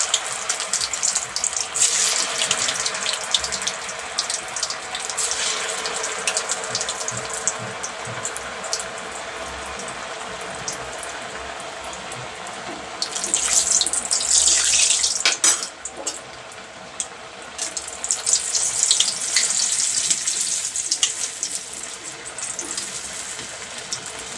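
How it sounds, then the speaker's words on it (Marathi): Sabudana vada fry in hot oil, a steady bubbling hiss that swells louder in two long surges as more vadas go in, with no voices over it. "आणि अशा प्रकारे आपण हे वडे तळून घ्यायचे छानपैकी."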